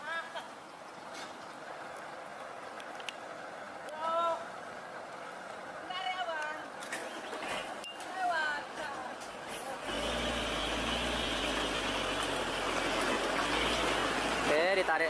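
A heavy Fuso two-axle truck engine drones and strains steadily while towing a stuck loaded truck, growing louder and rougher in the second half, with occasional hiss and squeal and talk heard throughout.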